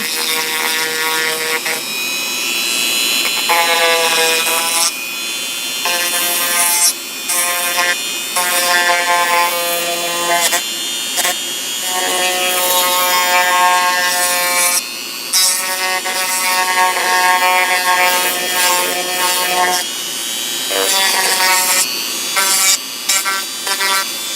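A Dremel rotary tool works on a coaster with a loud, high-pitched whine that rises and drops in pitch as it bears on the surface, with short pauses in between.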